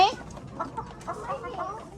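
Startled chickens cluck in short, scattered bursts around a farmyard, moderately near, with a person talking faintly underneath.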